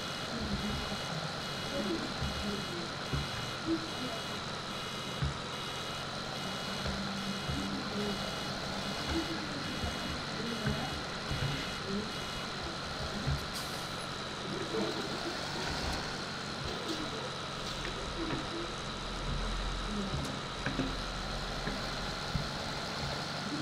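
A steady mechanical tractor engine drone in the video game Farming Simulator 17 hums continuously at low volume, with a constant whine and faint intermittent clicks and voices underneath.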